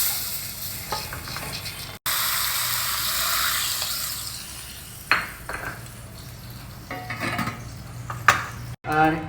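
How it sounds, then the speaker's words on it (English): Hot ghee tempering with red chilli, pepper and coarsely crushed jeera poured into rasam, giving a loud, steady hiss and sizzle that fades, followed by clinks of a metal pan and utensils. "pour this tempering over the rasam"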